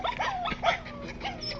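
A dog whimpers close by in a string of short, high, wavering whines that rise and fall, with no talk over them.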